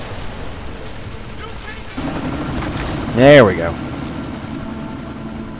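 A helicopter in the video game Deus Ex: Mankind Divided gives off a steady, close rotor drone throughout, and a voice briefly cuts in over it partway through.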